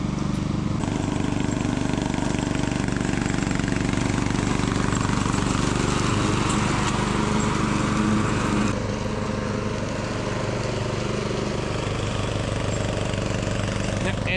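An old lawn mower runs in a yard near a stream, a steady, fairly loud engine drone that holds for the whole stretch and eases slightly partway through.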